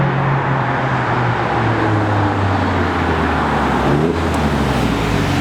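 Alfa Romeo Stelvio Quadrifoglio SUV engine droning loud and close with steady harmonic tones, its pitch shifting and briefly rising in a rev near the end, with no voices.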